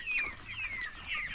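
Seven-week-old improved Kienyeji chicks peep and cluck in a busy flock while pecking at greens, bright overlapping calls rising and falling close by with a low murmur underneath.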